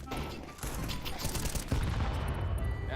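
Rapid gunfire from a video game, dense overlapping shots and automatic bursts loud and continuous throughout, with a heavier boom near the middle and faint talk underneath.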